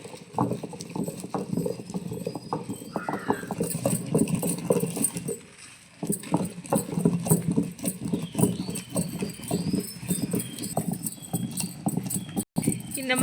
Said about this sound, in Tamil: பாரம்பரியமான ஆட்டுக்கல்லில் தான் இப்போ நம்ம அந்த துவையலை ஆட்டி எடுக்க போகிறோம்.